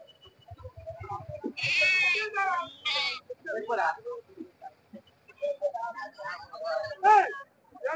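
Several goats bleat loudly and repeatedly nearby, overlapping with people talking in a busy outdoor crowd at a tribal village goat market in Srikakulam District.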